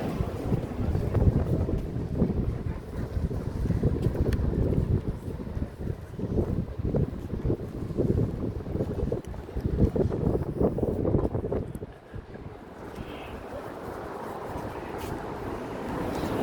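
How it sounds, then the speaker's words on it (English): Outdoor wind buffeting a microphone in a small English town, a loud, low, gusty rumble that rises and falls and eases briefly near the end. "There's a bit of wind today"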